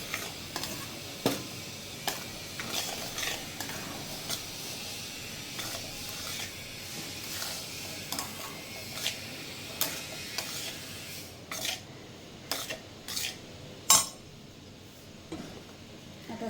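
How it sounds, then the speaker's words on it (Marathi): Flour being stirred and roasted in a pan on a low flame for green moong ladoos, soft scraping strokes of a spoon against the pan in an irregular rhythm over a faint sizzle, close and fairly quiet. "आपल्याला लो फ्लेमवरच पीठ मस्त भाजून घ्यायचं आहे।"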